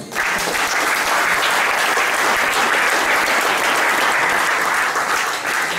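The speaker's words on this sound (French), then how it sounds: "Est-ce que tu peux acclamer Jésus?" A church congregation claps and cheers for Jesus, dense and sustained applause filling the room at a steady level throughout.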